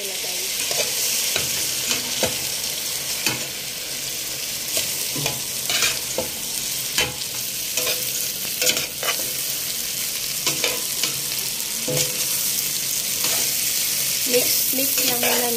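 Basmati rice is stirred in a pot for chicken biryani, with a constant frying sizzle close by and repeated scraping strokes of a spoon against the pot at an uneven rhythm.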